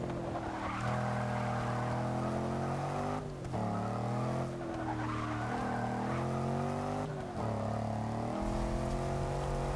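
A 2015 Land Rover Range Rover Sport SVR's V8 engine in Forza 6 roars steadily with shifting pitch, revving up and down between gear changes, loud and continuous throughout with brief dips.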